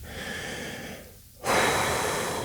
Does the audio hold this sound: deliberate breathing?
yes